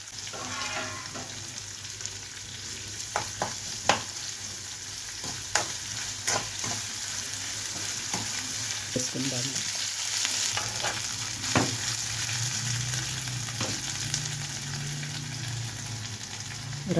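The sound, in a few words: frying onions with ginger garlic paste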